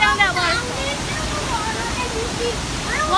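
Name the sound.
waterfall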